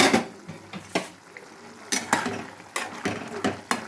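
A spoon stirs curry in a metal pot, producing repeated scraping clanks and knocks in an uneven rhythm, close and fairly loud, with a lid placed over the pot.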